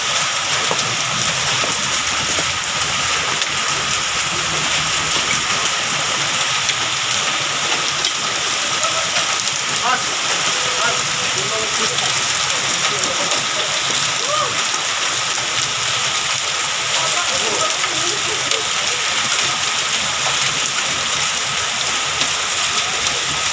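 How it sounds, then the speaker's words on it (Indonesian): Hailstorm with strong wind in Surabaya: a dense, steady roar of ice and rain pelting surfaces, with constant broadband hiss and scattered sharp impacts throughout, close and loud with no pauses. "Hujan es, tinggal jiko gelas."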